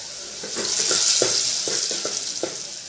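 Cumin, asafoetida and turmeric sizzle and crackle in hot oil, a steady bright hiss with occasional pops and spoon scrapes, no talking.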